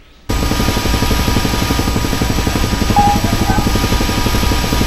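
A helicopter's rotor in the video game Arma 3 thumps in suddenly after a brief quiet moment, then holds a loud, steady, rhythmic chopping drone.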